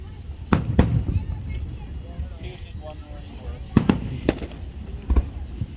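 Fireworks bursting in an outdoor show, sharp loud booms and crackles arriving in scattered clusters, several close together, with a person talking between them.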